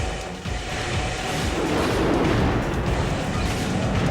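Missile fire and explosions in the mech combat game Armored Core 3: Silent Line, a dense, continuous rumbling roar of launches and blasts, loud and close, with no talking.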